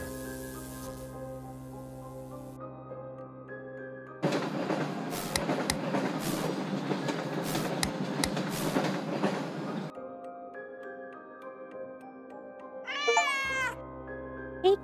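A cat meows in the Diorama Builder video game's noir city scene, with a rumbling passing train filling the middle stretch before the meow rises clearly at the end.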